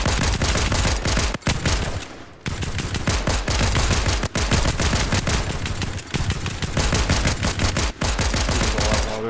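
Rapid automatic gunfire from a Fortnite weapon rattles almost without pause, loud and close, with only a few brief gaps between long bursts.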